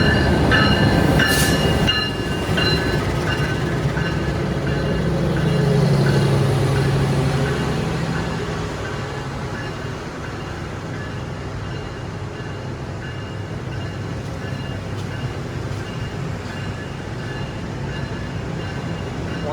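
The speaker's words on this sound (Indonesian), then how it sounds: "Mari kita sambut kereta Gumarang pendek." The Gumarang passenger train bound for Tegal rolls steadily past with rumbling wheels and a brief squeal near the start. The rumble stays loud and continuous the whole way through, with no voices.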